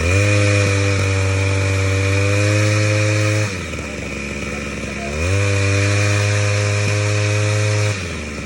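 An engine under repair revs hard and steadily with a strong harmonic whine, drops briefly to a rougher lower note midway, then climbs back up to sustained high revs before easing off, loud and close.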